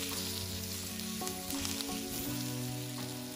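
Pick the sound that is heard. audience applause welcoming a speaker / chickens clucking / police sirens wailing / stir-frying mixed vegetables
stir-frying mixed vegetables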